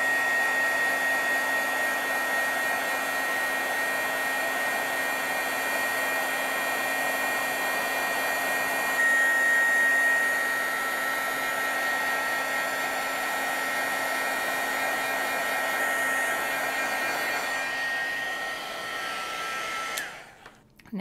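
A heat tool blows and whirs steadily for about twenty seconds while melting embossing powder on a stamped background, with a thin high whine over the airflow, then cuts off abruptly at the end.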